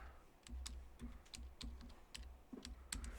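A command typed on a computer keyboard in a Kali Linux terminal, with sparse, separate keystrokes in an uneven rhythm, close and fairly quiet, and no talk.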